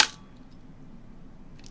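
A film camera shutter fires once at the very start through a locking cable release set to bulb mode, giving a sharp close click before near silence at night.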